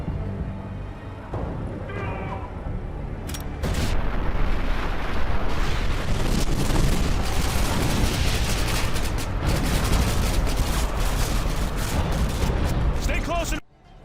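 Dense, continuous gunfire and explosions from a Call of Duty video game battle, a loud sustained barrage from start to finish with sharp blasts and bursts layered over constant rumble.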